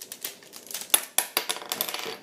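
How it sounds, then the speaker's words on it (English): Small plastic parts dropping from a Hasbro Masterpiece Transformers Thundercracker figure, a quick series of light clicks and clatters in close, uneven succession with no talking. "Pieces are falling off."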